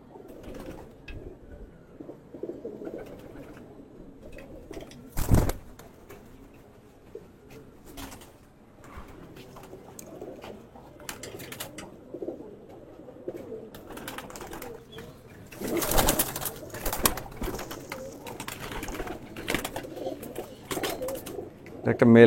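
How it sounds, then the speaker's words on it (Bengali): Racing pigeons in a loft give soft, low cooing calls on and off, with brief bursts of wing flapping or shuffling and some quiet background voices. "একটা মেল কবুতর"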